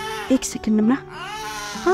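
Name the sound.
baby crying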